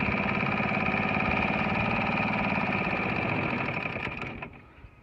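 A 1974 Evinrude 2 horsepower outboard motor runs with a steady, slightly rough buzzing chug, close and continuous before fading out at the end.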